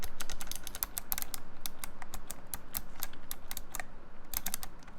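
Keys on a Razer Tartarus V2 Chroma gaming keypad are tapped in a fast, steady stream of sharp, close clicks, a dense mechanical clatter that runs unbroken for about five seconds with no voices.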